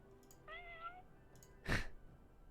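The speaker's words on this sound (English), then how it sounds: "That's the nice meow." A short, soft cat meow from a video game, followed by a brief thump or clatter a moment later.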